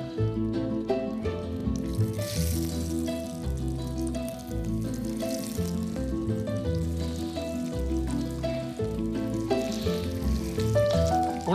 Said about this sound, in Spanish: Una cosa que hay que tener en cuenta cuando estemos friendo de estas cosas